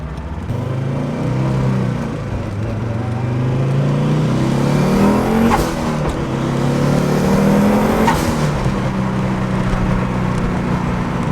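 A 500-horsepower short-wheelbase Audi Coupe Quattro drives hard, its engine revving up and down through several gear changes with a loud, steady rasp from inside the car.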